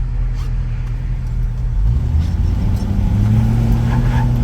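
A 1966 Ford Mustang coupe with a vinyl top spins its tires pulling away, a loud, steady engine roar building as it accelerates, with a rising whine layered over the low rumble.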